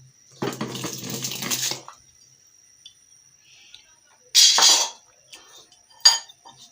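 Dry rice for winter-vegetable khichuri is poured and clinks into a cooking pot in a short rattling burst, followed by a few sharper clinks and knocks of a utensil against the pot.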